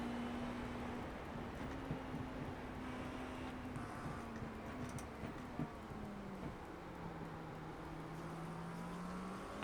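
Race car engines drone in iRacing on the Indy road course, a sustained mid-distance whine that slowly rises and falls in pitch as cars circle the track, steady and moderately loud with no talk.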